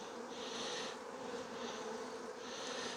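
Honey bees buzz steadily and close during a late-season hive inspection, a dense continuous drone that swells and eases in gentle waves with no voices.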